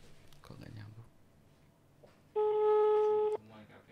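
A telephone call failing to connect, with a steady loud busy tone sounding for about a second after soft rustling and faint whispered voices.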